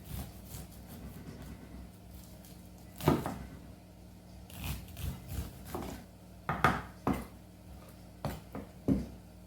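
Kernels being cut or scraped off a corn cob, heard as scattered knocks and scrapes of a knife against the cob and a board, irregular and close, with quiet gaps between.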